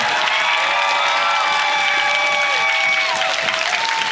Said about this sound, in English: I'd like to hear a round of applause for all my actors and crew, filmography and photography